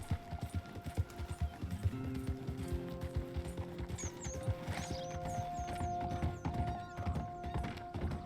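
Horse hooves clip-clopping steadily in the Western video game Red Dead Redemption, with a few faint whinnies and a music bed running underneath throughout.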